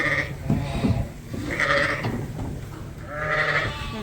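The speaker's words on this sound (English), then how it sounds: "and then we bring the ewes out." Ewes bleat repeatedly while being brought down a ramp out of a trailer during winter on a sheep farm, with several loud, overlapping calls close by over a steady shuffle of hooves and background noise.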